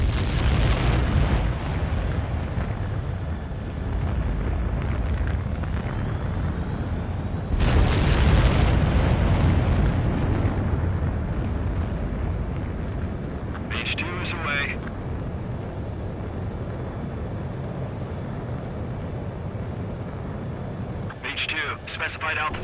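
A fighter jet taking off in Ace Combat 7, with a loud roaring engine wash and a sharp burst of afterburner thrust partway through that settles into a sustained rumble, and radio voices talking over it.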